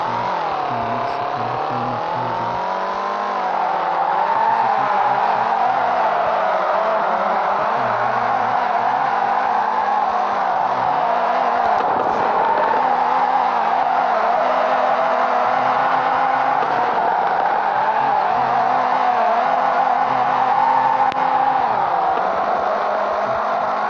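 A car engine in the racing video game No-FR Legends hums and revs continuously, rising and falling in pitch as the car accelerates and shifts, steady and fairly loud with no talking.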